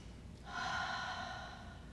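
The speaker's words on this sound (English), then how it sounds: "deep belly breathing" One deep belly breath, a slow drawn inhale that swells and then eases off over about a second and a half, close and quiet.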